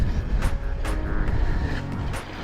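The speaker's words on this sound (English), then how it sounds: "I could hear the car coming" A car engine grows on the road nearby, a steady motor hum approaching, with a few short sharp scrapes from skateboard wheels over it.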